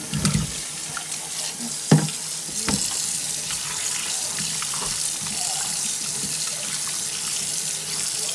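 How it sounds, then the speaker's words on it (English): Tap water runs steadily from a kitchen faucet into a sink while cooked beef balls are rinsed for pho, with a couple of soft knocks near the start and otherwise a constant close splashing flow. "I'm gonna rinse this out, and I'm gonna wash my beef ball in it."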